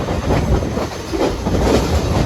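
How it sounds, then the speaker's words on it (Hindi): The 151UP Shah Latif passenger train pulls into Runfidani railway station, its wagons rumbling and clattering with a steady clickety-clack close by, loud and continuous throughout. "रनफिडानी रेलवे स्टेशन हमारी ट्रेन पहुँच रही है"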